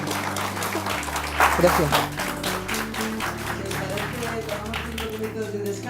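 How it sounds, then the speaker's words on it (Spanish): Audience applause after a talk on cryopreservation, steady clapping that runs throughout with a brief swell near the middle, while someone speaks briefly over it. "Un aplauso, por favor."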